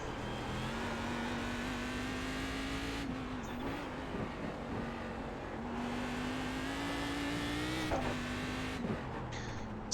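An iRacing race car, a Cadillac at Belle Isle, cruises at a slow, steady pace, its engine a continuous even drone with a few brief gear-change dips, heard alone at moderate level.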